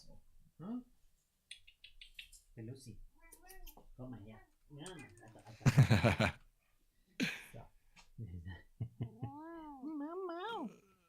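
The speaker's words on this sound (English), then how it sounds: "That's a vocal cat." A domestic cat meows loudly several times, with rising and falling drawn-out calls and a strong loud burst partway through, close to the microphone and heard alongside some light tapping like typing.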